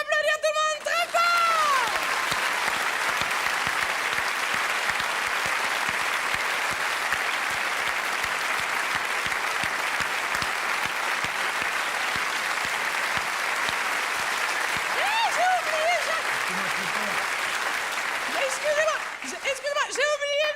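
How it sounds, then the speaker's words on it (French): A theatre audience applauds loudly and continuously, a dense, steady wash of clapping that lasts the whole stretch, with brief voices rising near the start and end. "Je vous demande d'applaudir tout le monde très fort."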